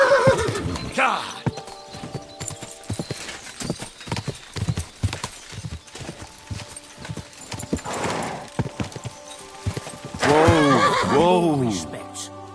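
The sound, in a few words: horse hooves clip-clopping in Kingdom Come video game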